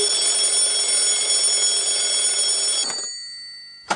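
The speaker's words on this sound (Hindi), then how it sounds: "जल्दी से उठ जाओ, अलार्म भी बज रहा है।" Cartoon alarm clock rings loudly with a bright, continuous metallic bell for about three seconds, then cuts off, followed by a short sharp click at the end.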